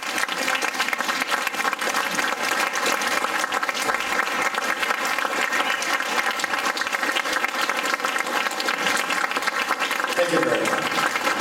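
Audience applause welcoming Medal of Honor recipient Jon Cavaiani to a speaking event, sustained dense clapping from a full room, steady and loud throughout.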